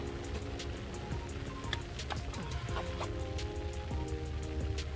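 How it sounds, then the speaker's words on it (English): Rain begins to fall in a garden, with scattered drops pattering and tapping on leaves and surfaces over a steady outdoor background. The drops are distinct and irregular. "Uh-oh, yeah, it's starting to rain."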